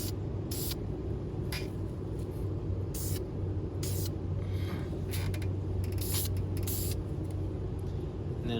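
A shaken spray can lays a light misting coat of primer onto a 2021 Chevy Silverado Trail Boss truck: several short hissing bursts, some longer, over a low steady background hum.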